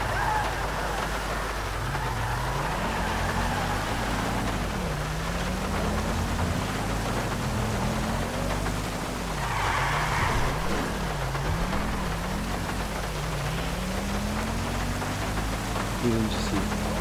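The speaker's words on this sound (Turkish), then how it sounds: "Niye yağmur?" Rain falls in Grand Theft Auto V as a constant, even hiss, with a low, wavering vehicle engine droning underneath throughout.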